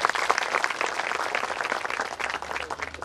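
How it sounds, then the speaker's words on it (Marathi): An audience breaks into sustained, dense applause to welcome actress Ashwini Mahangade at an interview event, with steady clapping throughout and no voices. "दादा जोरदार टाळ्या वाजवून त्यांचं स्वागत करा."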